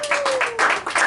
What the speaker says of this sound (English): So give it up for Craig one more time